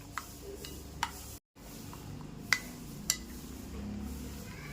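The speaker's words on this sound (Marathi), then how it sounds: "हळद देखील मिक्स करून घ्यायची." A spoon or whisk stirs turmeric into oil for mung dal dhokla batter, giving faint soft scraping with a few light clinks and ticks against the bowl, close and quiet.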